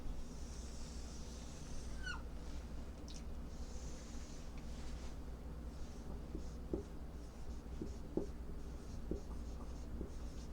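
Pen scratching across paper while drawing columns for a geometry proof, a steady faint scribbling with short strokes and a few squeaks, close and quiet against a low background hum.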